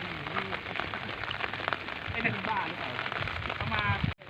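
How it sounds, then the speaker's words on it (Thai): Steady rain falls all day by water where fish are being caught, a faint, continuous patter and hiss with a few brief tones, ending in a sudden cutoff. "ผมฝนตกครับตกไม่หยุดครับตกทั้งวัน"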